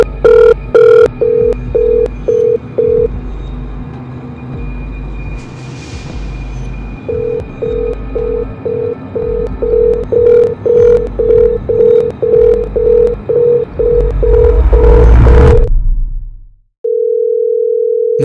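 A phone call to parents that goes unanswered: repeated short electronic ringback beeps in a steady rhythm, loud and close, then a final long continuous tone after a short pause.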